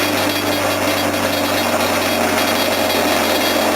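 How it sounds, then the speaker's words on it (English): An unbolted bench grinder runs loud and close with a steady motor whine and hum, held in place by hand, continuous with no talk. "Gotta get that bolted down this grinder."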